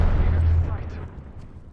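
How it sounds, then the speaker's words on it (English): A single heavy gunshot boom in Apex Legends, loud and close with a deep low rumble that fades out over about a second. "Shots fired at me."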